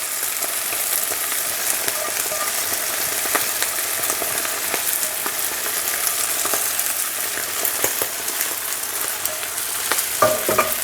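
Chicken fried rice with egg and green onion is stir-fried in a hot pan, giving a steady loud sizzle broken by repeated scraping and clattering tosses of the spatula, with no talking.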